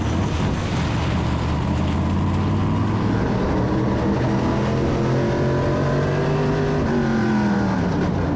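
Race cars pull away together at Waterford Speedbowl, a dense, continuous roar of engines rising in pitch as they accelerate, loud and steady with no talk over it.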